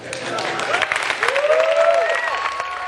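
A crowd in California applauds the iPad reveal with close, busy clapping while a voice speaks over it with rising and falling tones.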